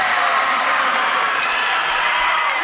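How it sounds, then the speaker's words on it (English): An indoor college volleyball crowd cheers and claps during a rally, a dense, loud, continuous roar of voices and applause throughout. "Crowd's starting to get into it, Ben. Getting pretty loud in here."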